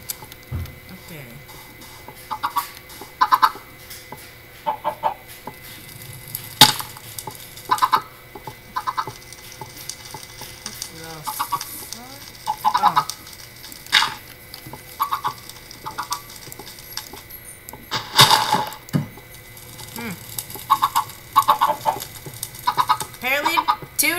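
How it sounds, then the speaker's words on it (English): Chickens cluck in short repeated bursts within a blocky building game, the calls coming and going over a steady low background hum with no voices. "Chickens killed themselves! They were fully grown."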